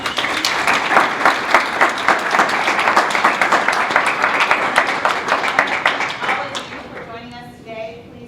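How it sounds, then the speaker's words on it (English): An audience at a slow fashion panel claps for the panelists, a dense, loud round of applause that fades out after several seconds. "So can we give them a round of applause?"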